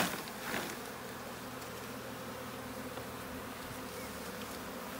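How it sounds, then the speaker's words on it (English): Honeybees shaken into a bowl for a varroa alcohol wash give off a faint, steady buzzing hum, with a soft knock at the start. "I'm now just going to leave these bees for a second, let them spread out across the bowl."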